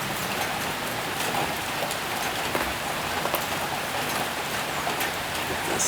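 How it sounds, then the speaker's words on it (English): Heavy rain falling outdoors during a thunderstorm, a dense, steady, close hiss of drops on surfaces that stays constant throughout with no talk. "we just came out in a thunderstorm"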